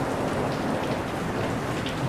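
Heavy rain pours steadily over a leaking cattle shed during a storm in a rural farming setting, a dense, continuous hiss with no breaks and no voices throughout.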